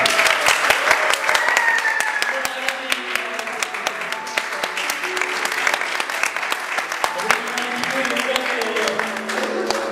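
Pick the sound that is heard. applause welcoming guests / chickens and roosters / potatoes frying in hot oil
applause welcoming guests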